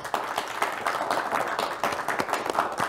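A small group applauds in a studio, clapping quickly and unevenly at moderate volume for a few seconds.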